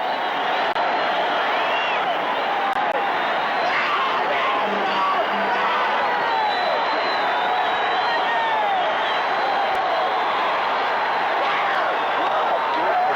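Crowd of 4,000 at the 1977 Mr. Olympia bodybuilding contest, a steady distant roar of cheering, whoops and scattered clapping that fills the hall throughout without breaks.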